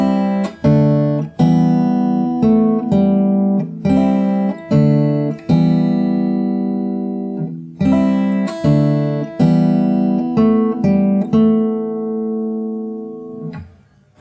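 Fingerstyle acoustic guitar plays a song, repeated picked chords ringing out one after another in a steady pattern, close and clear, fading at the end with no voice.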